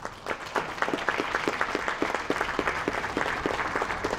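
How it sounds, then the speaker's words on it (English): An audience at a sixth-grade school orchestra concert applauds, brisk dense clapping with some sharper individual claps standing out, steady and fairly loud for about four seconds. "Please give them a round of applause."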